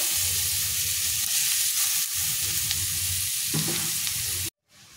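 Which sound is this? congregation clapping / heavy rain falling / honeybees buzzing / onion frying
onion frying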